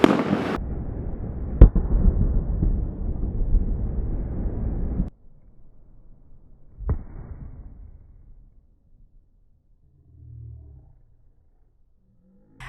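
An Alpinestars Tech-Air motorcycle airbag deploys outdoors with a loud, sharp blast and hiss of inflation lasting several seconds, then a second smaller crack and fading rustle, with no talk.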